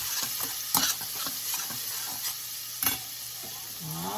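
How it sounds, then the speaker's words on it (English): Food sizzling steadily in a pan, close and continuous, with a few louder clatters of stirring and scraping breaking through the even crackle. "Just gonna let that cook up."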